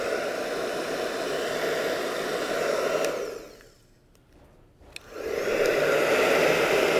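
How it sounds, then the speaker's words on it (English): A heat gun blows steadily to warm contact cement on a patch for a Hobie inflatable repair, its loud airy roar cutting out for about a second before starting up again. "you can get a heat gun and put a little bit of heat on it"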